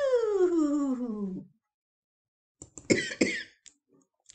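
A drawn-out descending whine fades out, then after a pause come a few short, sharp coughing bursts, close and fairly loud.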